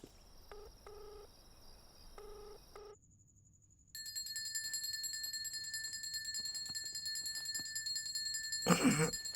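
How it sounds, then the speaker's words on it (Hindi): Mobile phone ringtone of high electronic tones sounding steadily and fairly close, after a brief stretch of beeping tones, with no talk over it. "अबे तेरा फोन बज रहा है"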